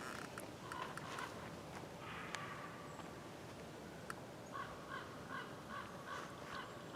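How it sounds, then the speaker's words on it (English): A crow caws several times at a distance over a steady outdoor hum, the calls spaced irregularly and fairly faint. "That's probably that bird over there."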